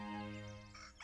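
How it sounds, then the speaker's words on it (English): A rooster crows once, loud and close, a brief harmonic call with no other sounds around it. "When morning comes, the rooster crows out loud"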